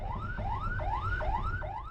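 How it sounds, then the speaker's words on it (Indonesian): A rising, repeating siren wail cycles about every 0.4 seconds over low engine rumble, loud and close with no talking. "Dan sirine ambulans itu pun kembali meraung-raung membelah jalanan."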